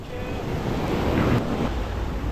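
Sea waves break on a shore where people are fishing, a steady loud wash of surf mixed with wind buffeting the microphone, with no talk.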